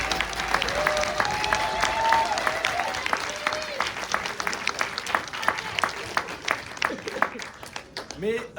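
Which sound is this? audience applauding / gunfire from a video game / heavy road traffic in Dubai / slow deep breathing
audience applauding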